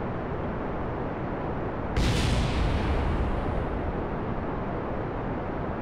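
Rocket explosions in Kerbal Space Program over a steady roaring rumble: a sudden, louder burst of noise hits about two seconds in, then lingers as a heavier, sustained blast before easing slightly, with no voices.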